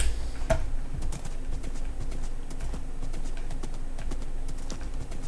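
A Minecraft horse being tamed gives a steady run of close, rhythmic clip-clop hoof taps with a few sharper clicks, no talking over it.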